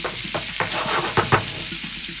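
Prawns frying in a pan for Spanish-style stuffed calamari, a steady close sizzle broken by a few sharp crackles and stirring scrapes, with no talking.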